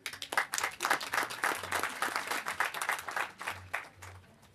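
A crowd of residents at an outdoor gathering in Moses Garoeb gives themselves a round of applause, with dense, lively clapping rising and falling in waves for several seconds, fairly close and loud.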